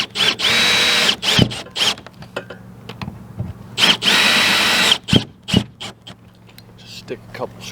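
A power drill drives screws into a ladder in repeated short whirring bursts, some sustained for about a second, interspersed with clicks, knocks and handling noise at close range.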